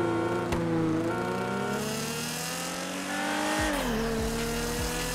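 A car engine in GTA 5 roleplay revs hard and accelerates through rising and shifting gear tones, loud and close, with brief tire squeal near the end and no talking.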